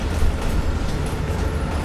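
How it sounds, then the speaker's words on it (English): Train in the video game Call of Duty: Black Ops Cold War, a continuous loud rumble and rattle of rolling rail cars heard close up and steady throughout, with no speech. "Train's slowing down."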